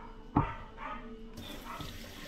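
Water running from a newly installed faucet in a kitchen sink, a sudden splash onset followed by a steady, close, moderate stream.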